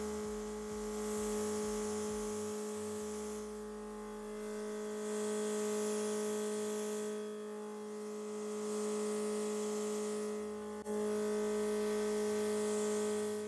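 A steady airy hiss of an airbrush makeup gun spraying onto tissue swells and fades in several long bursts over a constant electrical hum.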